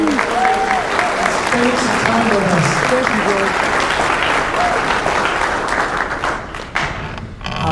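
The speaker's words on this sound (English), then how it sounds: "give him a little roar of applause" Audience applause at an evening speaker series lecture, a steady wash of clapping from a seated crowd lasting several seconds, with a host's voice speaking over it before the clapping thins out near the end.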